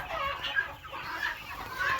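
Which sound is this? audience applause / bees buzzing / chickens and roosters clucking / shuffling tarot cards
chickens and roosters clucking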